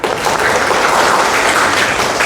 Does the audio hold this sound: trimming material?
no